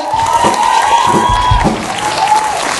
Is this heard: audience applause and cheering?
yes